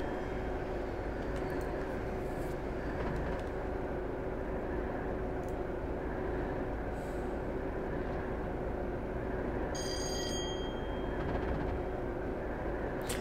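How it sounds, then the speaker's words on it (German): A British express train passing by in the video game Train Simulator 2016, a steady broad rumble and rolling wheel noise held at even loudness throughout, with a brief high metallic squeal near the end. "Und das ist doch mal ein schöner Zug"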